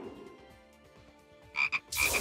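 Frogs croak in the video game Touhou Adventures of Scarlet Curiosity, with loud raspy croaks bursting in near the end over a quieter musical background of sustained tones.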